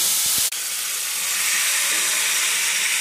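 Cooked mutton dropped into hot oil with curry leaves for a white onion mutton masala, a loud, steady sizzle and hiss following a couple of soft knocks and a sharp thud at the start.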